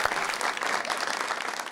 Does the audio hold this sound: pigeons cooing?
no